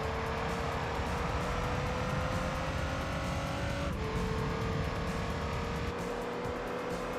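Race car engine from Gran Turismo 3 roars steadily throughout, its pitch climbing gradually, then dropping at a gear change before climbing again, loud and close with no talking.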